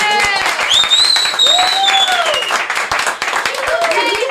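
Guests clap together at a 91st birthday party, the patter running under loud, animated voices and cheering as people talk and call out over the applause.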